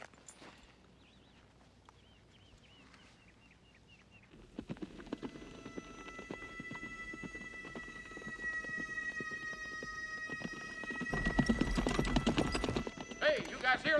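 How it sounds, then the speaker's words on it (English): Steady clip-clop of horse hooves walking, growing louder as they approach, with voices talking over them and a brief neigh near the end. "Hey, you guys hear that? Is that a horse?"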